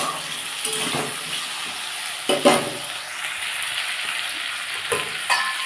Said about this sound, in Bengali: আমি এর মধ্যে পেঁয়াজ আর কাঁচা টমেটো দেখুন একসাথে দিয়ে দিয়েছি একটু এটাকে ভেজে নেবো